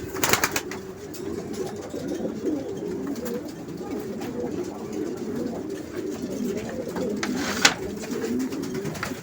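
Pigeons at a loft coo steadily in a continuous low murmuring chorus, with a few soft rustles and faint background noises throughout.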